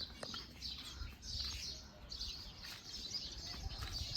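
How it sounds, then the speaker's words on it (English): Small caged birds at a farmhouse give repeated high chirps and tweets, with some wing flutter, fairly faint against steady outdoor background noise. "See, this is a bird cage. You can see lots of birds over here."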